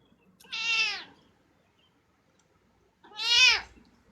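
A cat gives two loud, drawn-out meows about two seconds apart, each rising and falling, close to the listener in a quiet room.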